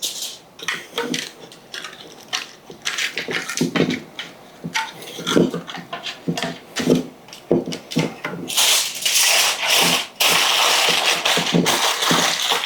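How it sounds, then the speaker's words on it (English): Cardboard is peeled and torn off a tray of macaroni and cheese, giving close, irregular crinkles, scrapes and sharp rustles that grow denser and louder toward the end, with no talking. "And I'm going to take this cardboard off."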